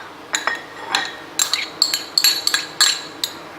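A chili, tomato and cucumber mix gets stirred in a bowl, heard as a quick run of close clinks and scrapes from a utensil against the dish, about a dozen short taps in irregular rhythm.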